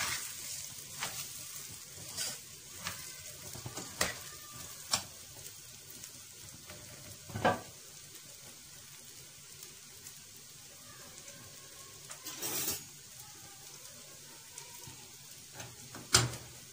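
Rice is stirred in hot ghee and oil, making a soft, fairly faint sizzle with scattered scraping strokes and a few sharper clacks of the spoon against the pot.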